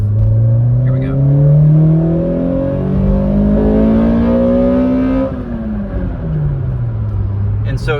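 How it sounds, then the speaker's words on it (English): A 2005 Toyota Corolla XRS fitted with an Injen cold air intake pulls hard through second gear, its engine note climbing loud and steady before the revs drop and settle lower near the end. "I'm just going to do another second gear pull here."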